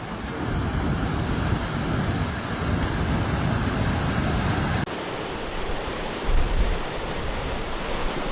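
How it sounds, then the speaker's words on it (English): Powerful churning ocean surf from storm surge driven by offshore hurricanes Humberto and Imelda on the North Carolina coast, a loud continuous roar of breaking waves and wind with no voices. "a direct result of the powerful churning waves generated by 2 simultaneous offshore hurricanes, Humberto and the intensifying Imelda."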